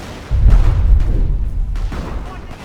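Artillery fire in the World War One mod for the strategy game Company of Heroes, a deep rumbling boom that swells and lingers, followed by scattered distant crumps and gunfire.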